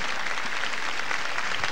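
Steady applause from a television studio audience on a comedy variety show, a dense continuous patter of many hands at moderate volume with no gaps.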